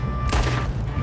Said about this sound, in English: And of course we find ourselves in the middle of a gunfire.